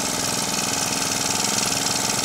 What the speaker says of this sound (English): I'm going to try and fire it up